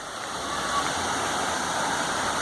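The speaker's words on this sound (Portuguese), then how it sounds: "Olha, não é que tem cachoeira mesmo? É cachoeira!" Waterfall in São Lourenço, São Paulo, giving a steady broadband rush of falling water, loud and continuous throughout with no talk heard.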